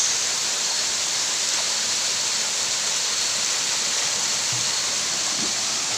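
Lambingan Falls on Sibuyan, Romblon pours down in a steady, loud, continuous roar of rushing water that fills the whole stretch with no voices.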